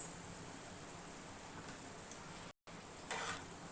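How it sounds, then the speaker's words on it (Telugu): Beetroot fry is stirred in a pan with a spatula. A faint, steady sizzle runs under soft scraping and stirring, with a brief dropout and a slightly louder scrape toward the end; no one speaks. "ఒకసారి మళ్ళీ మనం ఎత్తి బాగా గెరిటితో కలపెట్టాలి."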